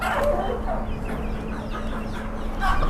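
Bantam chickens about three months old clucking in cages at a Chatuchak market animal stall, a busy mix of close clucks and calls over steady background murmur, with no clear talk.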